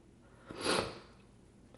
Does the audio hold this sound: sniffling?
yes